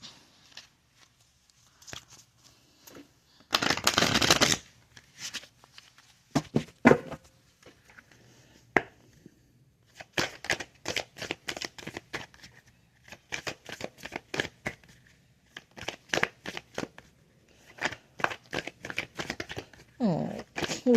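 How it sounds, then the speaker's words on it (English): Tarot cards riffle and snap in short papery bursts, with soft shuffling sounds scattered across a quiet room and a voice speaking briefly at the end. "And one more shuffle should do it."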